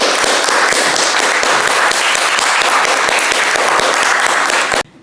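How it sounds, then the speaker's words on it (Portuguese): Loud, close applause from the audience at a Portuguese poetry gathering, dense crisp clapping with sharp individual claps standing out, continuous for nearly five seconds before cutting off suddenly. "gostaria de vos pedir uma salva de palmas para todos nós"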